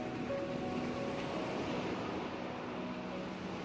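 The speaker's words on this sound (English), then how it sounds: "This is a beach. It is very close to Santa Cruz." Waves wash onto Las Teresitas beach near Santa Cruz, Tenerife, as a steady, soft, unbroken roar of surf with some wind, with no voices.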